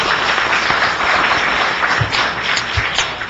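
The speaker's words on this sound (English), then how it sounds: "Give him a round of applause." A round of applause at a city transportation committee meeting greets the new acting head of the DOT, a dense, steady patter of many hands clapping throughout, with a few sharper individual claps standing out near the end.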